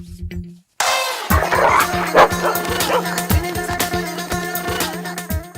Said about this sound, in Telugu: అరే ఇది మన కుక్కలా ఉంది.